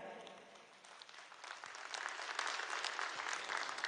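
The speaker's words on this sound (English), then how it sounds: "Please give a big round of applause for everybody tonight." Audience applause at a gala dinner in Kuala Lumpur for foreign ministers and delegates, a steady wash of many hands clapping that swells louder toward the end, heard from a distance in a large hall.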